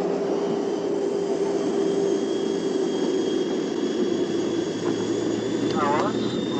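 A jet airliner cruising at altitude makes a steady, loud engine roar with a constant whine, with a voice speaking briefly over it.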